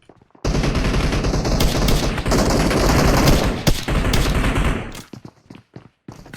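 Rapid bursts of Uzi and SKS gunfire in PUBG Mobile crackle loudly and densely for several seconds, then break into scattered single shots as the firing trails off.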